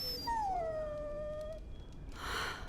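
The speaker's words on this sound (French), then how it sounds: "Oh, inutile de me regarder avec tes yeux de chien battu." A dog in the video game Dragon Age Origins lets out one long, drawn-out whimpering whine that slides downward in pitch, followed by a short burst of rushing noise, with no talk.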